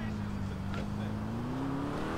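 A car pulls away in GTA IV, a steady engine hum rising slightly in pitch as it gets moving, with a faint voice in the background.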